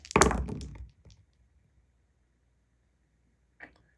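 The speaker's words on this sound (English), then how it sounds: "4 anti-ship missiles come in" An anti-ship missile strikes in a naval war game, giving one loud heavy thudding impact with a short rumbling tail, then near silence before a second faint, brief hit.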